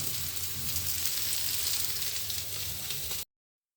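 Pieces of spiny gourd fry in hot oil with spices alongside a rohu fish dish, giving a steady, even sizzle that holds for about three seconds before cutting off abruptly.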